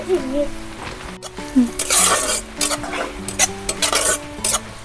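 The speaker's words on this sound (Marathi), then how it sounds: "आता ना मिरच्या टाकून घेते" Green chillies sizzling in a pan with oil: crackling sizzle and bursts of spattering, with scraping stirring strokes, close up; a faint voice and background tones sit underneath.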